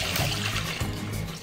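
Water, one liter for white jelly, pours steadily into a pot or bowl with a close, continuous splashing gush, brief and uninterrupted.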